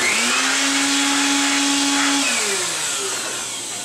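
Compressed air blows off a zinc-plated steel handle in a loud, steady hiss with a whining tone that shifts and fades slightly toward the end.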